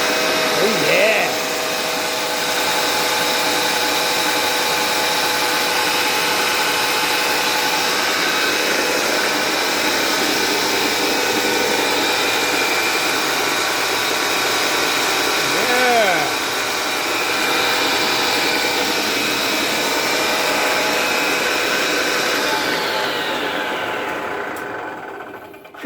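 Homemade dedicated dado table saw running at speed, a loud continuous whining hum with a steady motor drone that holds evenly throughout before winding down at the end.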